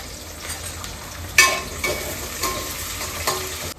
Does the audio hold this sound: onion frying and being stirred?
yes